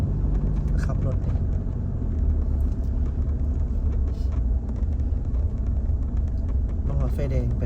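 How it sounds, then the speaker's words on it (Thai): Car driving on a road, a continuous low engine and tyre rumble heard from inside the vehicle, with people talking over it throughout. "ขับรถ"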